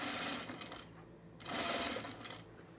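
A sewing machine stitches linen in two short bursts of fast, buzzing stitching separated by a brief pause, close and moderately loud with no talking.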